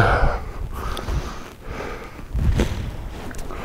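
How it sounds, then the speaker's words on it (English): A few close, breathy sniffles through a nose running from the wind while hiking, uneven in rhythm, with wind noise and faint movement in the background. "I got the sniffles"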